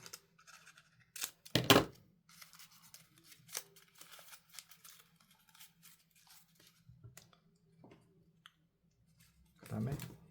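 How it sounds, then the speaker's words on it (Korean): Scissors snipping paper while trimming a papercraft robot's skirt to length on a diagonal, a few crisp close cuts and clicks amid quiet handling noise, with faint background hum. "이렇게 붙인 다음에 옆에 스커트 길이 맞춰서 잘라주세요"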